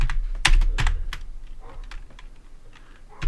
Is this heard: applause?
no